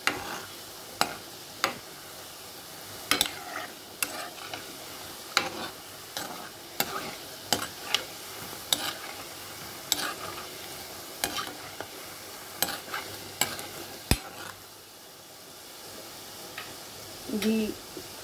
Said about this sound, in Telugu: ఇంకొంచెం కలర్ చేంజ్ అయ్యేదాకా వేయించుకున్నాం